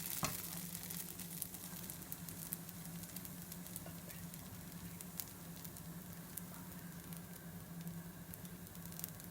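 Vellappam batter poured into a hot pan and swirled, giving a soft, continuous sizzle with faint crackles, close but quiet, no voices.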